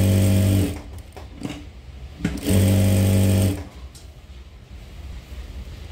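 A tailoring sewing machine runs loud and close, stitching the back neck of a paithani saree blouse in two bursts of whirring. Between and after the bursts come quieter fabric handling and faint background noise.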